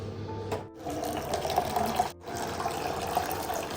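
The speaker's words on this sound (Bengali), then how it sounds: "এবার এর মধ্যে জল দেব" Water being poured into a mixture with black salt while preparing a juice at home, a close, continuous splashing trickle broken by two brief pauses.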